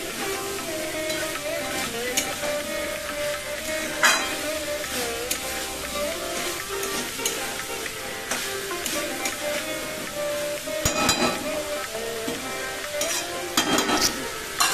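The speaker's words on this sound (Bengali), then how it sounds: "মটরশুঁটিটা দিয়েও কিন্তু একসাথে ভালো করে কষিয়ে নিতে হবে" Boiled peas being stir-fried with pumpkin curry in a pan, a steady close sizzle broken by repeated scraping stirs throughout, with no voices.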